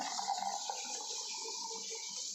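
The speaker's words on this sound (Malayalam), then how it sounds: "അപ്പോൾ നമ്മൾ നേരെ നാരങ്ങയുള്ളതിനകത്തോട്ട് ഒഴിക്കുക" Liquid pours into a container holding lemon, a short soft watery trickle heard close and fairly quiet.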